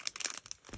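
Foil Pokémon card pack wrapper torn open by hand, a brief close crinkling rip with sharp crackles and a scratchy tearing burst, quiet and alone.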